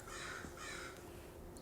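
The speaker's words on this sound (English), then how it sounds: "Damn, these crows." Crows caw outdoors in a short burst of two or three harsh calls, moderately distant and fairly faint against quiet background noise.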